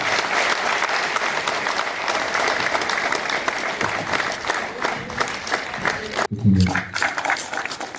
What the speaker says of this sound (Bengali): আমরা আরেকটু জোরে সবাই মিলে যদি হাততালি দিই।